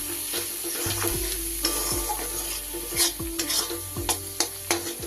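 Ground cumin, coriander and Kashmiri chili powder are fried and stirred in a pan, with a steady sizzle and frequent close scraping strokes of the spoon, and faint music in the background.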